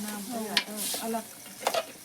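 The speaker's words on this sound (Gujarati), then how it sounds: "મગફળીઓ શેકાઈ છે" Peanuts dry-roasting in a pan, stirred, giving a close, steady rattle and sizzle with a few sharp scraping clicks over about two seconds, while voices murmur faintly underneath.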